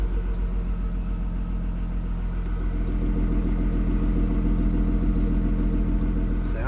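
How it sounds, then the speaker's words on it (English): A 2003 Audi A6 Quattro with a 3.0-litre V6 and dual exhaust idles in a steady, even low rumble throughout, moderately loud and close, with no talking. "Sounds like there's a V8 under there. But no, it's just a little 3-liter V6"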